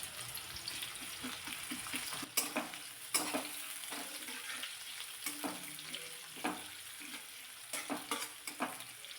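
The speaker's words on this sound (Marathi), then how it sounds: "अगदी थोडासा कांदा परतून घ्यायचा आहे जास्त पण लालसर होऊन द्यायचा नाही" Thinly sliced onion sizzles in hot oil with mustard seeds and cumin over a low flame, a steady soft frying hiss broken by repeated scraping stirs from a spoon in the pan.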